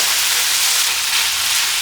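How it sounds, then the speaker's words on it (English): Loud, steady sizzle and hiss of chicken chow ho fun flat rice noodles being stir-fried in a hot pan with chopsticks and a spatula, close up with no talking. "Okay, now you have to keep on stir frying this."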